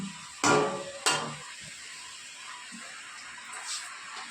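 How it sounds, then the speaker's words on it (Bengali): Spinach leaves tipped into a hot frying pan and stirred during home cooking give two loud rustling crashes close by, then a soft, steady sizzle with light scraping. "এবারে পালং শাকটা দিয়ে দিচ্ছি।"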